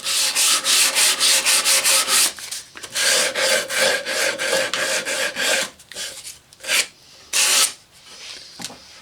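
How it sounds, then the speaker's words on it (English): Hand sanding of a wooden model engineer wagon, close rhythmic raspy strokes in steady back-and-forth bursts, slowing into a few separate swipes, with no talk. "a little hand sanding and just enough detail here to make it interesting"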